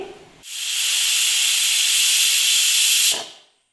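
Pressure cooker whistle blasting steam in a home kitchen, a single sustained loud hiss of about three seconds that starts abruptly and cuts off, alone with no voices.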